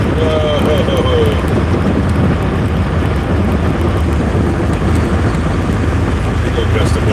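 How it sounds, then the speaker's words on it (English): A strong gust of wind blows outdoors in Albuquerque, a loud, close, continuous roar buffeting the microphone, with a brief voice underneath. "Big old gust of wind."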